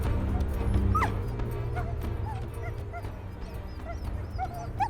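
A team of husky sled dogs in Greenland yips, whimpers and barks in short, overlapping bursts, close by over a steady outdoor rumble.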